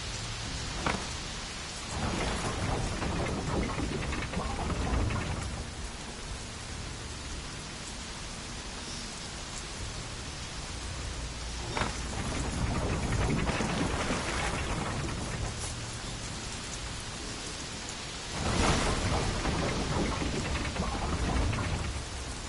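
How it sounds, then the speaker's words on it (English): Steady rain pours in The Witcher 3 while several deep thunder rumbles swell and fade, a loud crack arriving near the end; no one speaks. "Looks like rain."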